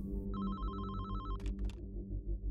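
A telephone rings with a bright electronic trill lasting about a second, heard faintly against a low background hum.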